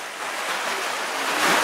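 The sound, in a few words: ocean waves splashing at Mermaid's Grotto, Okinawa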